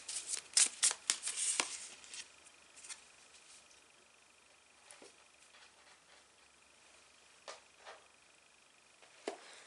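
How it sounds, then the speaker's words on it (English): Two oracle cards being shuffled: a quick burst of papery riffling and snapping in the first two seconds, then sparse soft taps and slides in a quiet room. "I'm going to shuffle 2 oracle cards to see what is the message for part 2"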